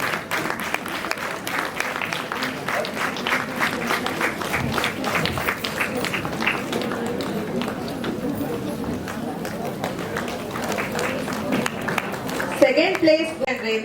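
Audience applause and cheering at an International Women's Day celebration held by a women's income tax association, a steady dense clapping wash lasting throughout, with a voice talking over it.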